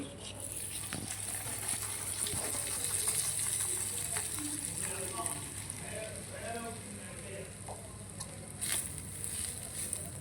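Tempering spices sizzling in hot oil for mango masala pulihora, a steady, fairly quiet frying hiss with light spattering pops, close up.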